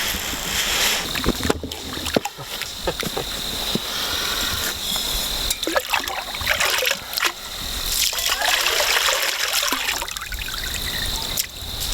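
Water trickles and pours steadily into a pot or kettle for coffee at a backcountry campsite in Algonquin Park, a close, continuous splashing dribble with a few small clinks, and no talking.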